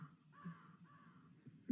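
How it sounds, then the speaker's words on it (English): Crows cawing in a multiplayer video game, harsh repeated caws in a loose series over a low steady background, fairly close and clear with no talking. "You scared away the crows"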